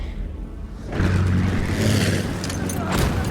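A car engine in Battlefield 1 gameplay roars up from a lower hum into a loud, rising rev with gritty mechanical rumble, close by, continuing steadily to the end.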